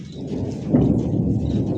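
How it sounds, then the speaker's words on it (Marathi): Low rolling rumble of thunder during rain on a stormy Diwali day, swelling slightly midway and continuing steadily without any voices. "गडगड्यांचा आवाज आहे"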